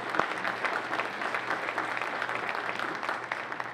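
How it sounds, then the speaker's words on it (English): Sustained audience applause at a science of reading summit, dense and steady throughout, moderately loud in a hall with no talking over it. "I think that deserves a round of applause."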